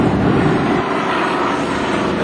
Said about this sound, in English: I think I see Halverson's airplane up there.